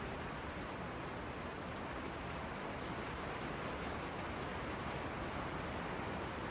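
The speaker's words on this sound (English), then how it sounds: "A little rain on top of the tin roof." Light rain patters steadily on a tin roof, heard from inside a barn or shelter as an even, constant hiss with no voices.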